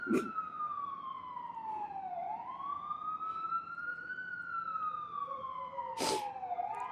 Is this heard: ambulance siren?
yes